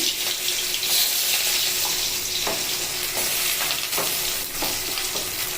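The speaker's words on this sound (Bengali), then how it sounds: "এখন আমি পেঁয়াজ কুচি দিয়ে দেবো পেঁয়াজ কুচি দিয়ে দিচ্ছি" Chopped onion sizzles and crackles loudly in hot oil, a steady frying hiss with occasional stirring clinks, no voices.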